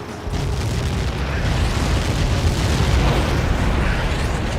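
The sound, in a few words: explosion in video game Ace Combat 7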